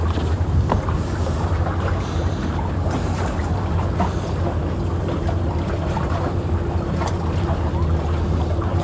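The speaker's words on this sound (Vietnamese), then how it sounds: "Nó huy động là ba chiếc ghe cào" Boat engines on a river, where three dredging boats search the water: a steady low droning hum with wind noise, continuous and fairly loud throughout.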